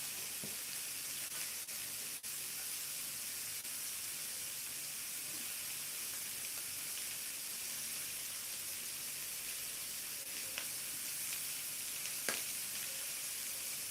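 Thawed thin shrimp frying in a pan for a breakfast bowl, a steady close hiss of sizzling oil throughout with a few faint clicks and taps, no talking.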